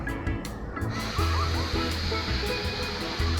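Steady rushing and sloshing of churning water in an artificial wave pool, loud and continuous, with a faint murmur of people in the background.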